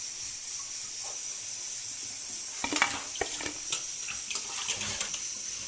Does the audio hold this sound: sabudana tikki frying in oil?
yes